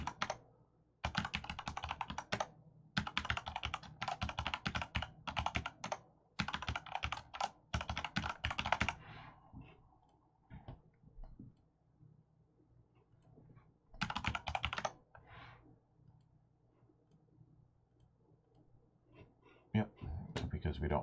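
Fast typing on a computer keyboard during a Windows server and client setup, long bursts of rapid clattering keystrokes with short gaps, close and clear, with speech in some stretches.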